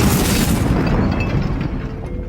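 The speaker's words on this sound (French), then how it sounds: "la foule est soufflée par l'explosion d'une bombe" A bomb explodes inside a crowded bank hall, a loud, dense roar of blast and rumble that fills the space and slowly thins out over a couple of seconds.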